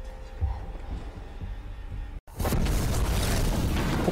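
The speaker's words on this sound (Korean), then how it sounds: "폭발에 휘말리고" A sudden deep explosion bursts out in a movie scene after a brief moment of silence, then a loud sustained rumble and roar of debris continues to the end.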